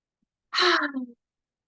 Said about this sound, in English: So take a breath with me.